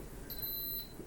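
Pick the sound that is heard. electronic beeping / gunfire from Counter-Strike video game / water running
electronic beeping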